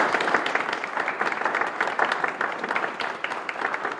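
An audience applauds new inductees at an Alpha Chi honors society induction ceremony, a brisk, continuous round of clapping from a moderate crowd with no speech over it.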